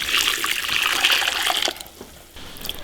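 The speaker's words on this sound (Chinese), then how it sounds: "开水，哇，给它烫啊！" Boiling water poured over beef tripe to scald it, a loud, rushing pour that runs for under two seconds, then drops to a quieter trickle and splash.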